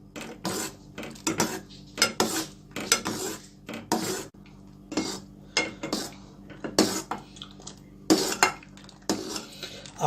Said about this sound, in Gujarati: આ મિક્સરને કન્ટિન્યુ સ્ટર કરતા